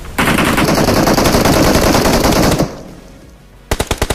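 Rapid automatic gunfire from a mobile battle-royale shooter game on a Samsung phone, a loud sustained burst of dense shots that cuts off, followed by a quieter pause and then a few separate sharp shots near the end.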